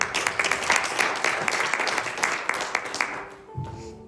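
Applause from a church congregation, a dense run of clapping that carries steadily for several seconds, then tapers off near the end.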